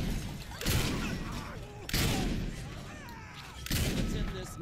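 Three heavy shotgun blasts ring out in Saints Row 4, about a second apart, each a loud sharp boom with a short tail.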